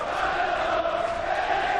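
Darts crowd of Vincent van der Voort fans at the 2015 World Matchplay, a steady dense roar of cheering and chanting filling the hall without a break.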